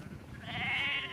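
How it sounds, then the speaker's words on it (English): Sheep in a field paddock bleat once, a single drawn-out nasal call rising partway through, fairly close, over faint outdoor background noise. "There's more fields with sheep."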